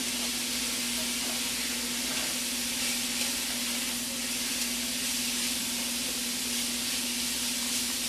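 Homemade Hamburger Helper with ham and garlic sizzles steadily in a pan while being stirred, a continuous close frying hiss with a faint low hum underneath.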